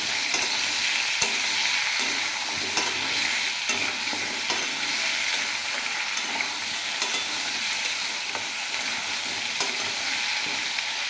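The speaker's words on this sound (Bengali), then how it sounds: "নুন হলুদ দিয়ে দেবো, দিয়ে ভালো করে ভেজে নেবো।" Potatoes with salt and turmeric frying in a pan, giving a loud, dense, continuous sizzle with frequent small crackles and occasional stirring scrapes throughout, no voices.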